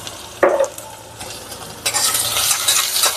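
Ginger garlic paste frying in a pan for vegetable biryani gives a bright hiss that swells into a steady loud sizzle after a spoon knock and brief stirring.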